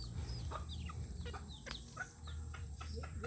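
Backyard chickens clucking in short, quick bursts nearby, some higher sharper calls mixed in, over a steady low background hum.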